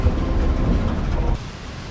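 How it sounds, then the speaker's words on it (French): Kuala Lumpur metro train riding along, a loud steady low rumble and rolling roar that drops off abruptly partway through, no voices. "Je suis parti sur le métro."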